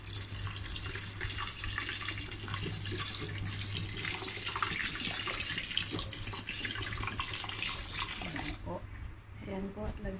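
Water pours steadily into a cooking pot for a chicken rice dish, an even splashing gush running close up for about eight seconds before tapering to a few drips and clinks.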